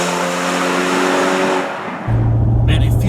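A Ferrari California T engine pulls under throttle from inside the car, a loud, steady, smooth drone that dips briefly and then returns with a deeper, stronger tone.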